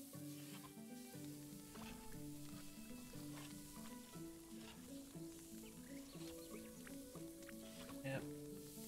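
Food sizzles and fries over a fire in the medieval survival game Medieval Dynasty, a soft, steady crackle beneath a repeating background music melody.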